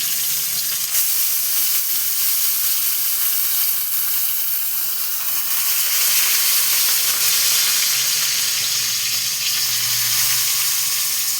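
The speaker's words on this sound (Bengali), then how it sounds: "ওই একই তেলে আমি বাকিগুলো দিয়ে দিচ্ছি।" Cauliflower leaves frying in hot oil, a steady, dense sizzle that holds at a loud, even level with no voices throughout.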